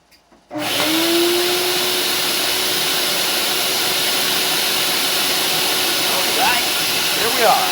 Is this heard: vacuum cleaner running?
yes